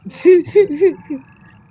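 A frog croaks in a few loud, pitched pulses close by, three strong calls followed by a fainter one, with low background rumble.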